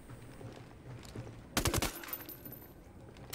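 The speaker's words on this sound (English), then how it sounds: "Oh, I shot that guy right in the face." In Ghost Recon Wildlands, a single sharp burst of video game gunfire breaks through quiet ambient background, near and loud, then fades.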